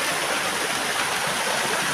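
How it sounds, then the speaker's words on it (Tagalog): Water rushing and splashing inside a cave, a loud, steady, close roar of flowing water with no break and no voices. "Tubig o, tingnan nyo."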